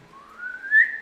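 A person whistles a single smooth note that glides steadily upward, imitating a slide whistle, rising to a louder peak near the end before settling; close and alone with no talk.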